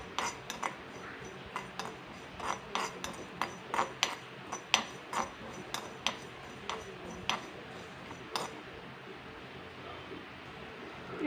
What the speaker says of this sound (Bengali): দেখো জিরে হয়ে গেছে, যে ফাটছে।